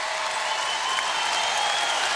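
A home crowd cheers and applauds at a UConn women's basketball game at DePaul, a steady, dense roar of clapping and voices filling the arena without letup.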